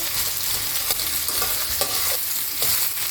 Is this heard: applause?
no